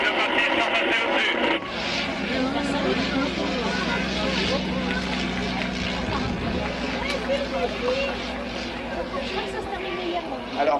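Vintage Nieuport 28 propeller biplane passing overhead, a loud sustained engine drone with shifting pitch, heard under crowd noise and a voice talking.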